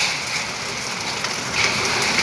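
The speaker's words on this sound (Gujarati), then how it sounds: "અત્યારે વરસાદ વરસી રહ્યો છે. ધીમે ધીમે ધારે અને પવન સાથે છે." Heavy rain with strong wind during a storm, a dense, continuous hiss of drops pounding surfaces, steady and close throughout.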